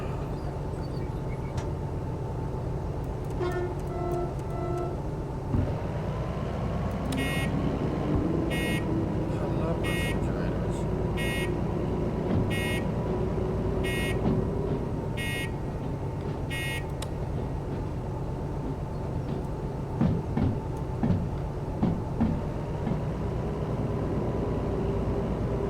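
A locomotive bell in the train game Derail Valley rings as a steady run of about eight evenly spaced electronic-sounding tones over a constant engine rumble.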